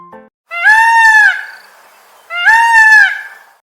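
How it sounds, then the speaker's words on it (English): A peacock screams twice, each call a loud, harsh, nasal wail of about a second, clearly separated by a short silence. "I am a peacock, I make sound scream"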